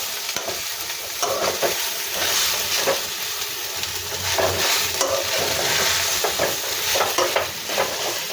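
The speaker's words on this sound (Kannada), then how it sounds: "ಕಾಯಿ ಹಾಕಿದ್ಮೇಲೆ ಸ್ವಲ್ಪ ಕೈ ಆಡಿಸ್ತಾನೆ ಇರಿ" Grated coconut sizzles in a hot pan while being stirred for a home-style chicken curry, with a steady close frying hiss broken by repeated scraping strokes of the spoon.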